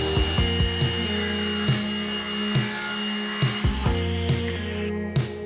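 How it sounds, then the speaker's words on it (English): A power saw ripping a piece of plywood in half in a garage, a loud continuous motor whine with steady humming tones and repeated brief surges as the blade cuts through the wood, with no voices. "Then I ripped it in half so I could fit it around the conduit."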